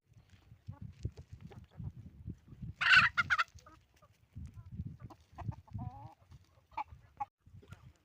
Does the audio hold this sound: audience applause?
no